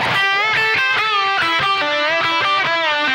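A distorted electric guitar plays a short phrase in A, using string bends over about three seconds of steady, close, sustained single notes with no talking.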